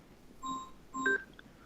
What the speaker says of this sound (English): Here comes a phone call.